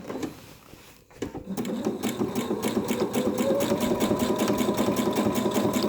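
A sewing machine stitching machine appliqué, controlled by a foot pedal: after a brief stop and a click, it starts up and settles into a fast, steady mechanical chatter of needle strokes, close and continuous, with no voices.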